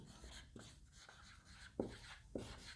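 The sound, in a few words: writing on a board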